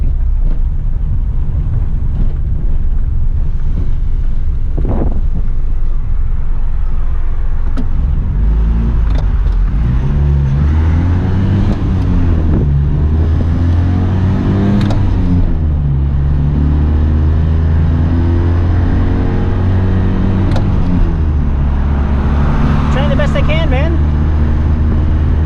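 A 1983 Honda Acty Street L mini truck drives and turns around. Its engine drones steadily and loudly from inside the cab and rises as the vehicle pulls away. Someone speaks briefly over the engine noise.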